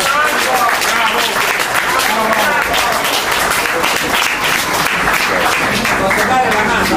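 An audience at a Meetup gathering in Napoli gives a sustained ovation, dense steady clapping from many hands filling the room at an even, loud level with no voices above it.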